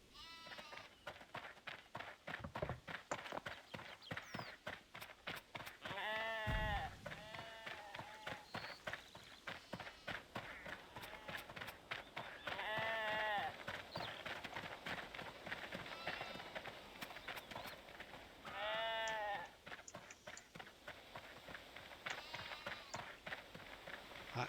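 Sheep bleat several times in the RuneScape 3 video game, harmonic cries recurring every few seconds over constant game sounds and clicks at moderate level.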